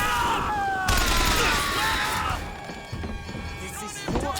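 Loud, rapid gunfire from the video game Bioshock Infinite bursts out over a short stretch, dense and close, with a voice shouting over it.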